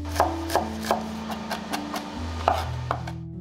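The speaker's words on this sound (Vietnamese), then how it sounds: "Tỏi thì mình đập dập và băm nhuyễn." Rhythmic knife chops on a cutting board, about ten quick strikes at a steady pace, mincing crushed garlic, heard close up over soft background music.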